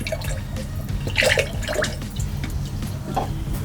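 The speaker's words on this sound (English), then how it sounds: "So we're gonna pour a little bit in here." Purple cleaner liquid poured from a bottle, giving close gurgling splashes and drips that swell briefly then trickle on, steady and fairly loud.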